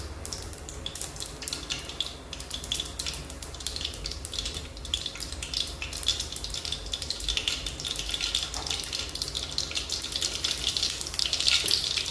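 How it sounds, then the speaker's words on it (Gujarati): Mustard seeds, cumin and asafoetida tempering in hot oil in a pan, giving a continuous crackling sizzle with scattered pops that grows slightly busier toward the end. "એક પેનમાં તેલ લેશું તેલ સારી રીતે ગરમ થઈ જાય ત્યારબાદ તેમાં રાઈ જીરું હિંગ નાખી સારી રીતે વઘાર કરી લેશું"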